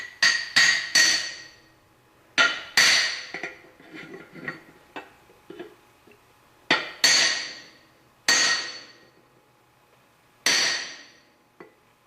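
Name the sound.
hammer tapping NV4500 countershaft in with custom driver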